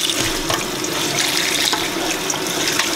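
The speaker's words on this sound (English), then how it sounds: "Make sure it's rinsed really good. And rinse off the meat." Tap water runs steadily into a kitchen sink while beef is rinsed for a stew, a continuous close splashing rush with no voices.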